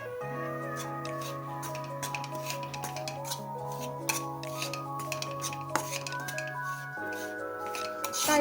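Bajra flour dry-roasted in a pan without ghee or oil, with spatula scraping and light metallic clinks and taps against the pan, close and fairly steady, over a sustained background tone.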